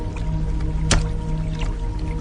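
A cut piece of wood is thrown into water and lands with a single wet splash about midway, set against a steady low background rumble.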